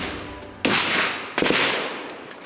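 Two loud, sharp gunshots at a shooting range crack about a second apart, each followed by a lingering echoing rumble, close by and alone without talk.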